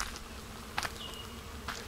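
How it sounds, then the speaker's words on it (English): Bees pollinate a male casuarina tree in the bush, a faint steady insect hum with a couple of brief nearer buzzing passes, quiet and outdoors with no talking. "I can hear bees"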